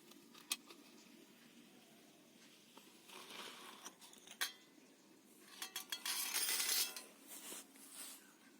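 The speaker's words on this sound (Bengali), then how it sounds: "ঢাকাটা খুলে দেখছি," A lid comes off a pot of homemade set yogurt with light metallic clinks and scrapes, scattered taps building to a brief cluster of louder rattles, close and fairly quiet.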